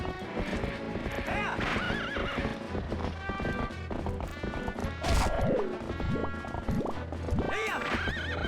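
A horse in the video game Twilight Princess gallops with rapid clip-clop hoofbeats and lets out loud whinnies, amid game music and impact sounds.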